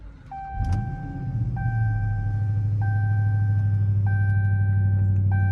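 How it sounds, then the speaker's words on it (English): A 2022 Dodge Charger Hellcat Redeye Jailbreak fires up with a loud rumbling idle, while repeating electronic chimes sound and the power steering wheel and seat motors whir into position. "when you start it and the wheel comes down automatically and the seat moves up"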